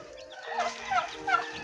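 A turkey gobbles nearby, a rapid warbling call repeated in a couple of quick bursts over a quiet background.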